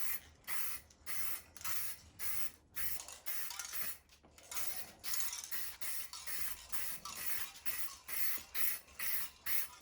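Spray painting rocker guards on a Ford F150 being rust-repaired: a rapid series of short hissing aerosol bursts, close and fairly quiet, in a steady stop-start rhythm without speech.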